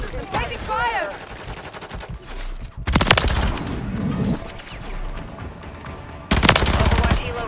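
Bursts of automatic gunfire in the shooter game Modern Warfare 3, two loud rapid volleys separated by quieter game sounds and a brief in-game voice callout.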